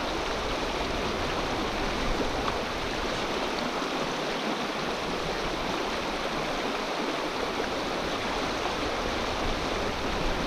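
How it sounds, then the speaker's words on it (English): Fast river water rushing over a downward slope on the lower Buller, a steady, loud broadband wash with no break and no voices. "Kind of going into a downward slope right here, so the water's picking up. As you can see, it's moving pretty quick."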